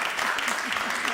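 A congregation at a Shabbat service claps together in a brief burst of close, steady applause, with voices mixed in under the clapping.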